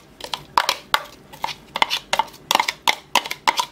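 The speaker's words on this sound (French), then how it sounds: "Maintenant, quelques petits tours de hachoir." Fresh herbs are chopped with a hachoir, a rocking mezzaluna blade knocking on a board in about a dozen quick, crisp taps, close and alone.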